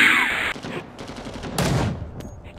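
Sustained automatic gunfire from the Vietnam-era shooter game Rising Storm 2: Vietnam, a dense rattling fusillade that swells loud partway through and carries on without pause, with no voices over it.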